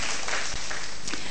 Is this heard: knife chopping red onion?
no